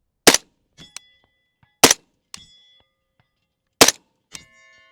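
A rifle fires three sharp, loud shots about two seconds apart at a target, each followed by a fainter metallic ring from the struck steel, with no speech.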